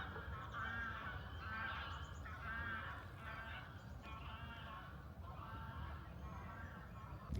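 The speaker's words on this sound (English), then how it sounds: "The geese, they seem to not matter." Geese honk repeatedly outdoors on a foggy morning, a chorus of overlapping calls at middle distance over a low steady rumble of background noise.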